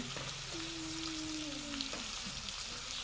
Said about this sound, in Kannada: ಎಣ್ಣೆ ಒಳಗೆ ಚಲೋ ತಂಗಿ ಫ್ರೈ ಮಾಡ್ಕೊಳ್ರಿ